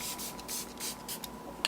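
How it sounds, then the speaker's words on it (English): Becca Skin Love Glow Shield Prime and Set Mist sprays onto a face in a few soft, breathy hissing bursts, close and fairly quiet. "I'm just going to use a spray."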